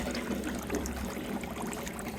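Tap water running steadily into a bird water dish outdoors, a continuous soft trickle and splash with no talking.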